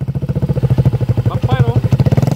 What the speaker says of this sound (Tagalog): Backfire oh.